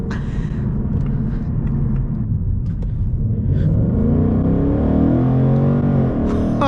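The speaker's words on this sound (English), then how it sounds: "I can hear the exhaust from the back" A 2024 Ford Mustang GT's V8 exhaust rumbles loudly and continuously from inside the car, rising in pitch as it accelerates hard and then shifts near the end, with no talk.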